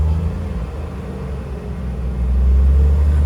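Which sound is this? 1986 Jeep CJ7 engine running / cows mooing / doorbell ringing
1986 Jeep CJ7 engine running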